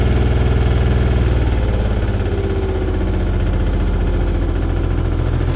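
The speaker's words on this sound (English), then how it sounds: "That's at full throttle." A Komatsu PC-28UU grey-market excavator engine, suspected of an injector or stuck-valve fault, runs at full throttle with a loud, steady rapid diesel chug and vibration, close up and with no talking.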